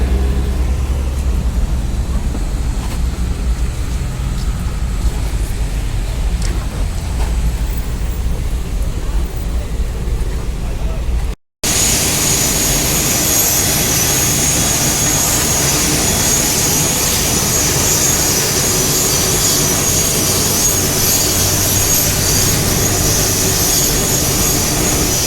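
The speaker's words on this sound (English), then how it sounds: "This is a speedboat from which we came." A speedboat engine in the Maldives keeps up a loud, steady roar throughout, broken by a sudden brief dropout midway, after which the noise comes back brighter and harsher.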